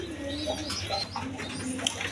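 A pair of pigeons with eggs and chicks coo softly against a busy, noisy background, their low calls faint and intermittent.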